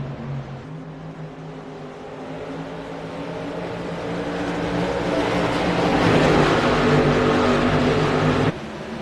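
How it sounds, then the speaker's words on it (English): Race cars accelerate hard on a track, a loud continuous engine roar that swells and builds over several seconds before cutting off abruptly near the end, with no talking. "there goes Nicole on that loud pedal"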